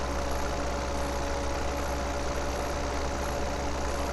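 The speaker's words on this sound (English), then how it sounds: "Poor old tractor." A tractor engine in Farming Simulator 17 runs steadily at a low idle, a constant, even drone with no breaks or changes across the whole stretch and no voices over it.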